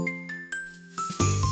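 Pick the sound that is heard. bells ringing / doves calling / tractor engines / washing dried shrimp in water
bells ringing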